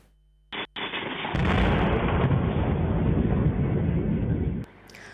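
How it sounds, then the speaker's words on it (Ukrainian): A heavy ballistic missile explosion rumbles for several seconds after a couple of sharp bangs in Dnipro, Ukraine, a deep sustained roar that cuts off abruptly. "Такі вибухи розбудили сьогодні Дніпро."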